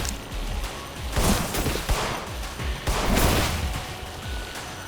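Sustained video-game gunfire from the psychological horror game In Sound Mind, with repeated loud shots in dense bursts and heavier blasts that swell midway and again near the end, with no talk.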